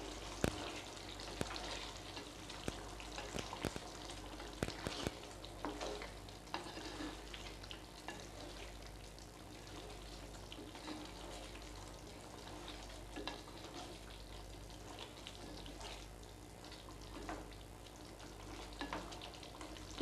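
Paneer masala cooking in a pan with butter, a faint, steady low sizzle and bubbling with scattered clicks and stirring scrapes over twenty seconds.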